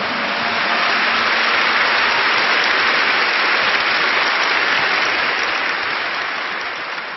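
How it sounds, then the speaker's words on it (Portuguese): A church congregation claps for God in a sustained, dense burst of applause that holds steady and tapers slightly at the end, with no talking over it. "Aplausos para Ele"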